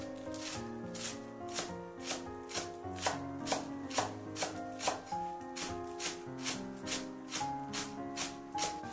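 A knife chops green onions into fine pieces on a cutting board, a steady series of close, crisp taps in quick rhythm with light background music underneath.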